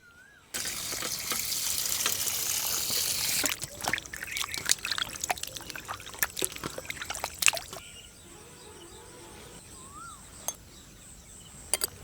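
A kilo of raw chicken is rinsed under running tap water for a tamarind-leaf curry, with a steady close stream at first, then intermittent splashes and handling clatter as the flow stops.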